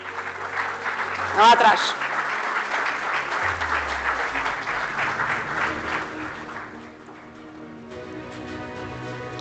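Audience applause at a safety meeting in a full hall, a steady wash of clapping with a brief louder burst near the start, easing off toward the end while a voice speaks over it.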